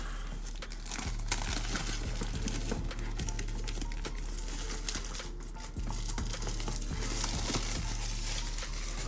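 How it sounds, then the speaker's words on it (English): Plastic packaging layer being peeled off a DJI Mini 2 drone box: close crinkling and tearing noises come in short bursts over a low steady hum. "Let's peel that layer back."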